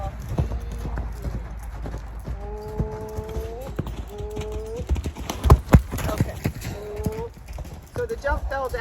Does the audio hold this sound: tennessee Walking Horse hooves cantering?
yes